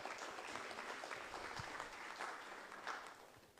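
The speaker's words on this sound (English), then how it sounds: "Give yourselves a round of applause." Applause from the audience at a community disaster recovery meeting in Lahaina, held in a school hall, rising as a steady wash of many hands clapping and then thinning slightly toward the end.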